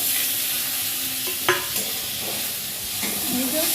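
Chopped onion and chilli fry in a pan with a steady close sizzle, while a spoon scrapes and stirs through them in a few distinct knocks.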